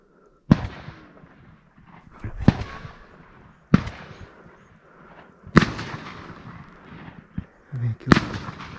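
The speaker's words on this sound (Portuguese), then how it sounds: "Mais três tiros." Rifle shots ring out during a wild boar hunt in Torrão, about six sharp, loud cracks spaced a second or two apart, each trailing off in an outdoor echo, with faint voices and movement in the gaps.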